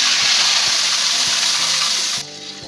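Spices sizzle and fry loudly in a hot pan of oil for a Bengali potato curry with cumin, bay leaf and turmeric, a steady close hiss that drops abruptly near the end as water goes in.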